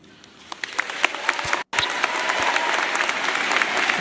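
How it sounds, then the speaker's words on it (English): A crowd applauds after a political speech: steady, close, broadband clapping that starts with scattered claps, briefly drops out, then swells into a fuller, sustained ovation. "And the rest is applause there"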